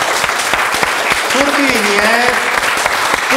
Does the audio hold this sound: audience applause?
yes